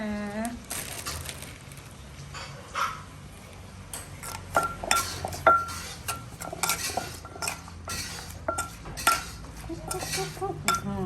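A spoon scrapes and clinks against a dish while scooping up food, a run of sharp metallic taps and scrapes close by, with someone talking softly in between.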